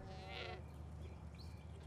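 A goat bleats once in a short wavering cry near the start over a steady low rumble of background noise, fading after about half a second with only faint sounds following.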